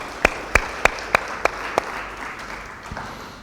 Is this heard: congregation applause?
yes